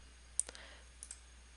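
A faint, crisp computer mouse click on a Record Deposit button in QuickBooks software, one sharp tick followed by a couple of softer clicks a moment later, in an otherwise quiet room.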